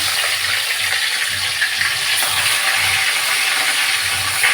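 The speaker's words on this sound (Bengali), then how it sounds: "তেল গরম হয়ে গেছে আমি একটা মাছ দিচ্ছি" Fish sizzling in hot oil in a home kitchen pan, a loud, continuous close-up hiss and crackle that holds steady throughout.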